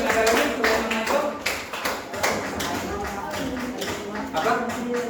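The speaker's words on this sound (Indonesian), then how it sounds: "sebelum lanjut kita tepuk tangan dulu untuk kelompok yang sudah menyampaikan" A class claps for a group in a classroom, a quick patter of hands sounding close and moderately loud, mixed with voices talking.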